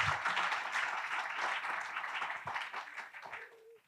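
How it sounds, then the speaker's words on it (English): Audience applause for panelists at a building opening panel talk, a dense sustained wash of clapping from a crowd that gradually thins and fades out. "can I have a round of applause for all our panelists today?"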